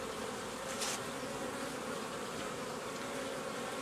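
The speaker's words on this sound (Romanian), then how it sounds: "Vedeți ce frumos lucrează albinuțele" Honeybees on a brood frame lifted from a hive, a steady, dense buzzing hum that holds throughout with no voices over it.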